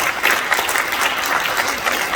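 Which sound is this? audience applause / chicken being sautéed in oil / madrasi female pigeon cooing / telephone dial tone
audience applause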